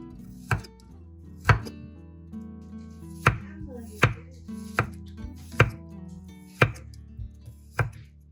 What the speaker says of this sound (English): Slice into thin, even slices, about 1 to 2 millimeters thick.